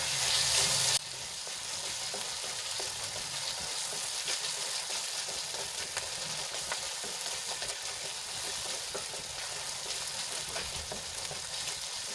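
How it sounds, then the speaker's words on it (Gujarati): Green garlic, ginger paste and chillies sautéing in a pan, an even, moderately loud sizzle with light stirring that continues throughout. "હવે સરસ રીતે મિક્સ કરીને આપણે એને થોડી વાર માટે સંતળાવા દઈશું"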